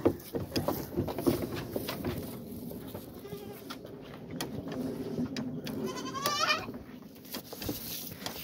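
Young goat kids bleat at a mountain pasture farm, several short cries scattered over steady farmyard background noise, fairly close.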